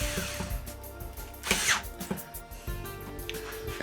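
A power drill drives screws back into the plastic back panel of a TCL 65-inch Roku TV, with short whirring bursts, clicks and handling noises at close range and quiet pauses between runs.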